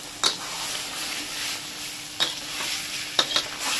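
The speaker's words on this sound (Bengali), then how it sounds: "এবার এটাকে কষিয়ে নেবো আলুর সাথে" Spices and potatoes for aloo dum being sautéed with a little water, under a steady close sizzle broken by a few sharp scrapes and stirs of a utensil against the pot.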